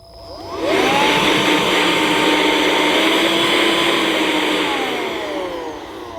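A Vorwerk Kobold VC100 handheld vacuum cleaner starts up, its motor rising quickly to a steady high whine with an airy suction roar that holds close and loud for several seconds.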